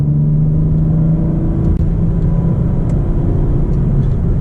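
A 2023 BMW M4 Competition xDrive convertible in sport mode with manual shifting, its engine droning loud and steady from inside the car, with a brief dip around a gear change.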